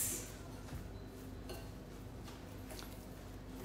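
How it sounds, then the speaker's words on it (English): Ingredients for an Ayurvedic summer dish are mixed in a bowl, giving soft, scattered clinks and scrapes of a utensil against the bowl over a steady, quiet background with no talk. "So we give that a good mix"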